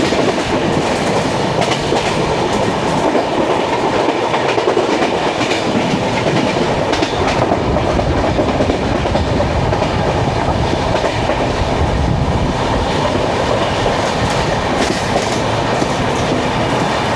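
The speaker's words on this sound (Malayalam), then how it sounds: "ഇത് സാവന്ത്വാടി മുംബൈ സെൻട്രൽ സ്പെഷ്യലാണ്." The Sawantwadi–Mumbai Central special train rushes past close by, a loud continuous roar of wheels with rhythmic clickety-clack over rail joints lasting throughout.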